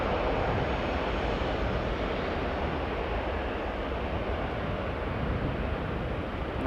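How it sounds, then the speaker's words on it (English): An Airbus A330 takes off at Amsterdam Schiphol Airport, heard as a steady, broad, continuous jet roar that stays strong throughout, with no voices over it. "But the A330 over here is taking off first."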